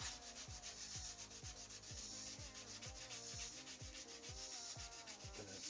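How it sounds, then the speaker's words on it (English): Steady abrasive rubbing hiss of sanding an ebony and deer antler pen blank with CA finish spinning on a lathe, with a regular rhythmic whir repeating about twice a second, continuous and close. "so this sanding will take care of that"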